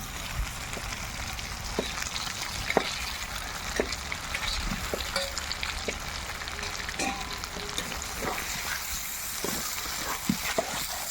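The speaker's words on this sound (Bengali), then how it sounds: "চিকেনটাকে সুন্দর করে কষিয়ে নিয়েছি এবার ভেজে রাখা আলুটা দিয়ে দেবো" Fried potatoes go into chicken curry in a hot pan, giving a steady close sizzle with scattered clicks and scrapes from stirring.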